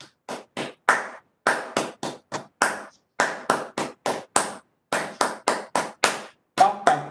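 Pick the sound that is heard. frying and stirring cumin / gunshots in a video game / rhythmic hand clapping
rhythmic hand clapping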